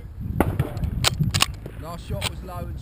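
Rifle fire on a shooting range at Bisley, a few sharp distant cracks spaced apart amid outdoor chatter and murmuring voices.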